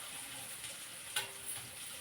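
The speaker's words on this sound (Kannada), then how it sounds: "ಈರುಳ್ಳಿ, ಮೆಣಸಿನ್ಕಾಯಿನ ಒಗ್ಗರಣೆಗೆ ಹಾಕ್ಬಿಡೋಣ" Onion and green chili sizzling in hot oil for tempering, a soft steady frying hiss with a brief crackle near the middle, faint and heard alone.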